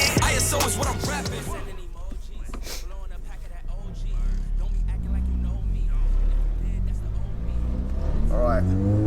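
A 607bhp SEAT Leon Cupra revs hard as its wheels spin under acceleration, a deep droning engine note that builds and holds beneath someone talking, with music playing at the start.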